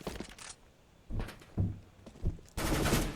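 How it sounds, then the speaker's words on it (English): Bursts of P90 submachine-gun fire in Counter-Strike, several separate volleys of rapid shots at middle distance, ending in a sustained loud burst. "Robin trying to P90 from distance"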